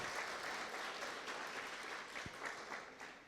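An audience at a day-one session of an actuarial society's annual convention in Zimbabwe applauds speakers and panelists: dense, steady clapping from a crowd, sustained evenly throughout at moderate volume with no voices over it.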